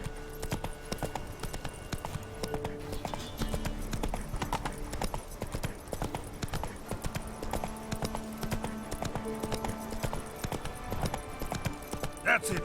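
Roach the horse gallops in The Witcher 3, a fast, steady clip-clop of hooves running throughout over game music and ambient sound, with a player's voice talking at times.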